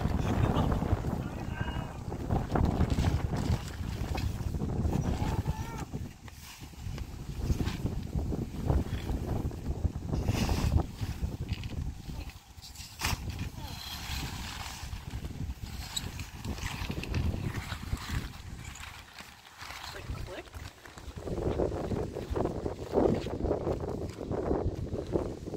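Gusty wind while campers set up a pop-up cabin tent outdoors, buffeting the microphone in irregular waves of low rumble, with voices talking intermittently underneath and occasional handling noise.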